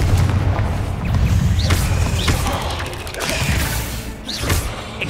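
Confringo blasting-spell explosions in the Hogwarts Legacy game, loud booming bursts with mechanical creaks and rumbling layered over a dense, continuous battle soundscape.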